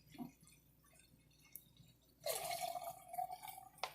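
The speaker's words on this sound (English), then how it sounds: "Pour it up." Rockin' Blue Raspberry drink poured into a glass: after a few faint taps, a steady splashing pour starts and runs to the end, fairly close and without talk.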